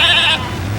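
A single short sheep bleat from an animal penned behind a barn at a wrecking yard, loud and close, cut off abruptly and followed by low background rumble.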